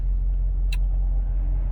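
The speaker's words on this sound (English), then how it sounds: "so we will take this down the highway, do some cruising highway speeds" A 2002 Land Rover Discovery II cruising at highway speed, its steady low road and engine rumble filling the cabin, with one brief faint click partway through and no talk.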